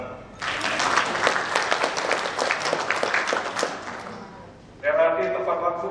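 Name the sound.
audience applause at a meeting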